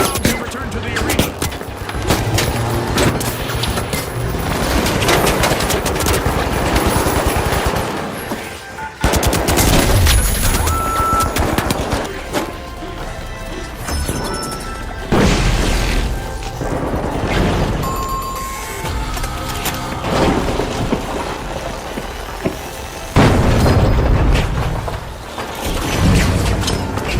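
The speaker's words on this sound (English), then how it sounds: "Frag grenade!" A frag grenade explosion and gunfire in a first-person shooter video game, with sustained loud machine-gun bursts and heavy booms throughout a chaotic firefight, with voices calling out over the battle.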